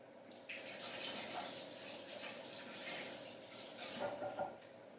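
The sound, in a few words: tap water running while washing hands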